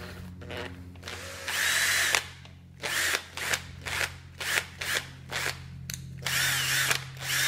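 An electric drill spins the front wheel of a Honda Titan 150 motorcycle during cleaning and repair, its motor whirring loudly in repeated short bursts with brief pauses between, close to the microphone and with no talk.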